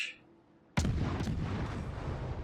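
A warship's guns fire in the naval combat game World of Warships, one sudden loud boom after a quiet moment, followed by a long, rumbling roar that fills the rest of the moment.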